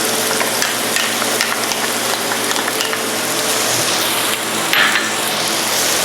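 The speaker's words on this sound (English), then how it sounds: "Continue sauteing until they're nice and soft and aromatic" Onions and garlic sizzle steadily in hot oil for a Filipino pork liver igado, a dense, continuous frying hiss with occasional faint stirring scrapes, close and loud with no voices.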